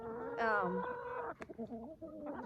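A rooster clucks close by at chicken feeding time, with a short run of harmonic calls followed by softer, scattered clucks and farmyard shuffling.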